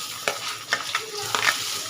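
Chopped onion hits hot oil in a spice tempering with chillies, cooked for a banana-flower ghonto with hilsa fish head: a steady close sizzle broken by a few sharp spoon scrapes against the pan.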